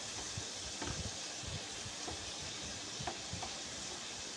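Potato sticks deep-frying in oil over medium gas flame for restaurant-style French fries, a steady soft sizzle and hiss with a few faint pops and clinks, nobody speaking.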